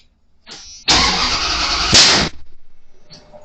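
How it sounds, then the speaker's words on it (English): A 1996 Ram 1500 with a Holley Terminator X setup gives a sudden loud, harsh blast near the engine lasting over a second, followed by rough pulsing engine chugs that fade. "I had a pretty bad backfire."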